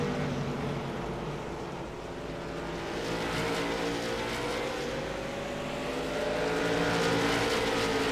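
Race cars lapping a circuit during a qualifying session, engines droning steadily and loud throughout, with pitch sweeps as cars pass and accelerate, no talk over them.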